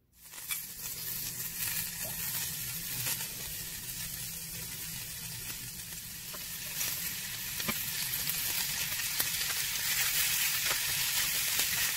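Lamb chops hit a hot pan sprayed with cooking oil, setting off a continuous bright hiss that settles and then swells louder toward the end, with faint clinks and no voices.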